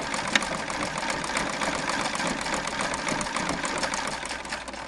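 A Singer 237 sewing machine runs its bobbin winder without thread, a steady close mechanical whir and hum with a faint fast rattle that holds evenly throughout.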